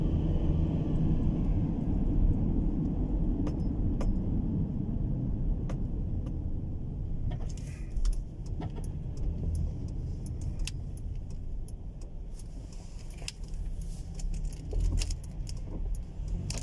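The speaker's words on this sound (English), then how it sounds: "I'm just taking a back road drive" A car driving along a quiet back road on a Sunday morning in the UK, with a steady low engine and road rumble throughout, a few faint rattles and clicks over the continuous drone.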